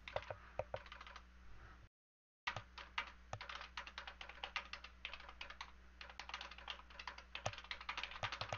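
Fingers type on a computer keyboard in quick, irregular bursts of close clicks with a short silent gap partway through, and no talk over it.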